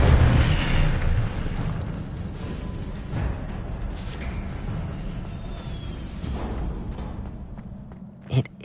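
An Incendio fire spell being cast in Hogwarts Legacy: a loud, roaring burst of flame that swells and rumbles, settles into a sustained crackling whoosh and fades, with a sharp pop at the end.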